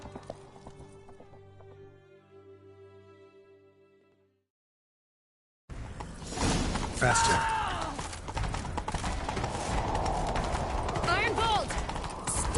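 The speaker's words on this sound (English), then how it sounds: "Grab a horse, we'll chase him down." Horses gallop with rapid clip-clop hoofbeats during a chase in The Witcher video game, loud and dense behind game music and effects, with a brief spoken line over it.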